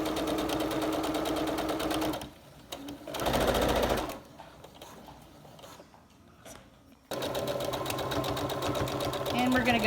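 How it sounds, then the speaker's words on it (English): A sewing machine runs a straight stitch across a fabric face mask to encase a pipe cleaner, giving rapid, even mechanical clatter in two runs separated by a quieter pause. A person talks during the pause. "we're going to just make a straight stitch all the way across to encase the pipe cleaner"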